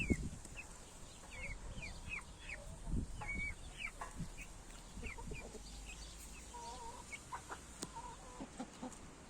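Light Brahma chicks peep in high, rapid chirps while Light Brahma hens cluck softly nearby, a busy farmyard chorus with scattered thumps and rustling.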